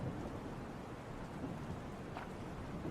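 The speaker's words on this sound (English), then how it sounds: "The longer I read, the louder the pounding of the rain and the howling of the wind become." Heavy rain pounds steadily beneath a low thundery rumble and howling wind in the video game Please Be Happy, a dense, constant storm wash with no voices.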